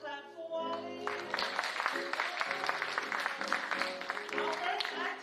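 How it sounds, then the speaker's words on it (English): Applause from a church congregation during a Kids Sunday service, dense clapping rising after a brief start and holding steady, with talk mixed in. "Can we give another clap for Wally?"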